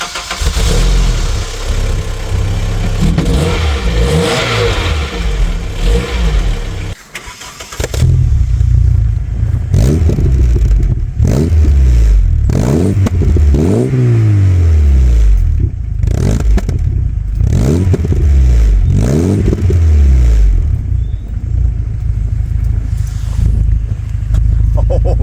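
A VW Mk3 Golf GTI fitted with a stainless catback exhaust idles loudly, cuts briefly, then fires and is revved repeatedly, each blip rising and falling in pitch, close and prominent throughout.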